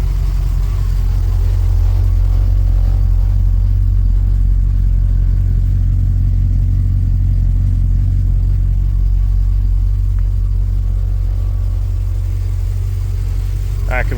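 Ford BA Fairmont V8 idling to warm up, with a timing chain fault. A low, steady, continuous engine rumble close by that holds even for the whole stretch, with no revving.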